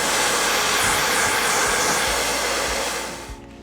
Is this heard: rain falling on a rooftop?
no